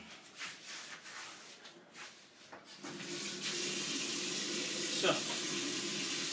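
A kitchen tap is opened and water rushes steadily into a sink while pans are washed up during cooking, a loud continuous spray following a few seconds of quieter clatter and a brief spoken word.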